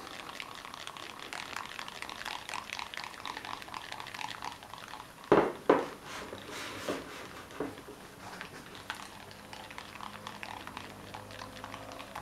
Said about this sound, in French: faut mettre pas trop d'huile au début